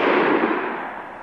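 A loud gunshot in a Czech radio play adaptation of Robinson Crusoe, a single close blast with a broad decaying rumble.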